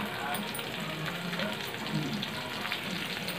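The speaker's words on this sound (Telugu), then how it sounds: "ఈ బెండకాయ ముక్కల్ని బాగా మగ్గనివ్వాలి" Okra pieces frying and softening in a pan for a spicy masala curry, a soft continuous sizzle and crackle held at low, even loudness.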